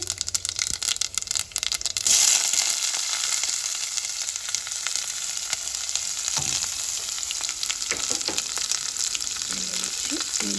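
Tempering spices such as cumin seeds and dried red chillies crackle and sizzle loudly in hot oil in a pan, a dense steady frying hiss with sharp pops and occasional stirring scrapes.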